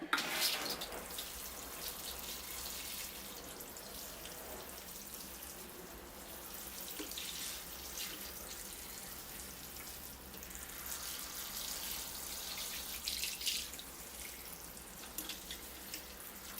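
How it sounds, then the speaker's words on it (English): Water poured over the soil of a freshly repotted cedar bonsai, heard as a steady, close hiss and trickle that runs continuously with small splashy fluctuations and no talking. "Okay, I'm going to water the planting, and then I'll start applying moss."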